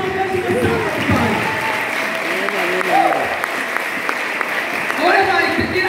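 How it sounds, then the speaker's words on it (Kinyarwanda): A church congregation claps together in a sustained patter of applause running beneath someone speaking loudly over it. "Ongera uyu Imana amashyi."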